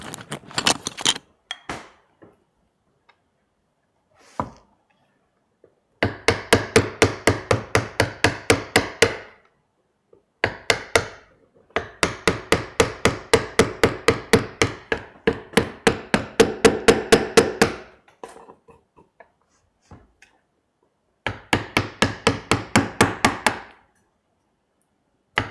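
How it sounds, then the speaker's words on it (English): A mallet hammering a narrow chisel into wood in a workshop: rapid runs of sharp, ringing strikes in bursts of a dozen or more, separated by short pauses, close and loud. "let's switch to a narrow chisel"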